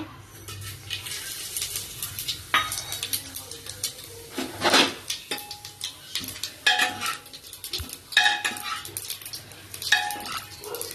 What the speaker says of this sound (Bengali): তেল গরম হয়ে গেছে, এখন এই মশলাগুলো দিয়ে দেব।